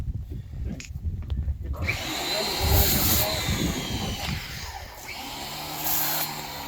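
A Ryobi 1800psi electric pressure washer runs with a steady, fairly loud whine and hiss through most of the stretch, starting up after a quieter opening.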